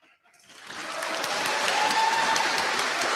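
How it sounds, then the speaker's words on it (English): Applause from a live debate audience swells up from near silence into a broad, sustained roar of clapping hands that stays loud and even to the end. "They're clapping for an idiot."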